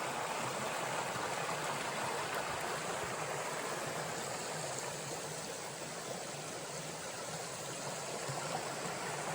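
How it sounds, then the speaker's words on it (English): A rainy-day stream flowing over rocks at a water crossing along the Appalachian Trail in Georgia, a steady broadband rushing wash, constant and fairly faint, with no voices. "Georgia really does have some of the most beautiful water crossings."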